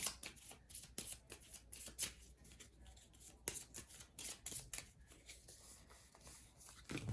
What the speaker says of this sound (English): We got to shuffle up his discard deck, discard pile.